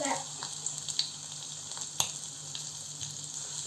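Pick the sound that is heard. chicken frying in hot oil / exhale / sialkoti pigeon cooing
chicken frying in hot oil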